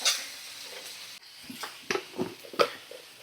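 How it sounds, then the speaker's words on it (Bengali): Chopped tomato, eggplant and chillies being stirred in a frying pan: soft sizzling under a series of scraping and clinking strokes from a spatula against the pan, close and fairly quiet. "ভালো করে নাড়াচাড়া করে নিচ্ছি।"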